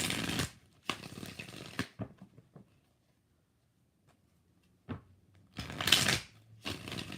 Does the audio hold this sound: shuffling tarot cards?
yes